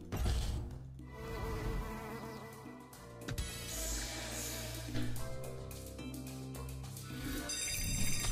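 Buzzing bee sounds from a slot machine video game, with a dense insect-like drone over bright electronic game tones that stays loud and continuous, with no talking.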